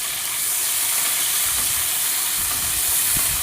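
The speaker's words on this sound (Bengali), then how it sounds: "সমস্ত উচ্ছেটা একসাথে দিয়েই ভালো করে একটু লাল করে ভেজে নেবো" Pieces of bitter gourd fry together in hot oil in a home kitchen, giving a loud, steady sizzle and hiss that holds evenly from start to finish with no voices over it.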